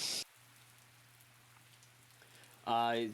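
Steady rain falls throughout as a soft, even hiss in the background, with a low constant hum beneath it and brief louder bursts at the start and end.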